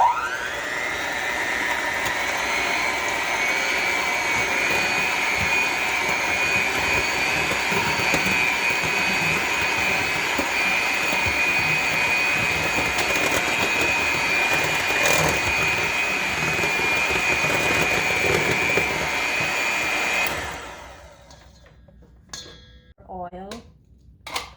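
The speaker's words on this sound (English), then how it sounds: "beat the 3 eggs with the brown sugar" An electric mixer beats three eggs with brown sugar for a baked apple yogurt cake, whirring steadily and loudly for about twenty seconds with a high motor whine, then stopping, followed by a few faint clinks.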